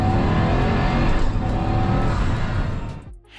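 A Pagani Huayra Roadster with a Mercedes-AMG 6.0-litre twin-turbo V12 roars loudly and steadily up close, then cuts off abruptly near the end.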